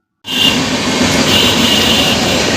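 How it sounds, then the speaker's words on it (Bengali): The 15722 Paharia Express, a passenger train with LHB coaches, rumbles along the rails with a loud, steady roar of wheels and a faint metallic whine. The sound starts abruptly and carries on close and continuous. "তোমরা অল্প কিছুক্ষণের ট্রেন জার্নিটা এনজয় করতে থাকো"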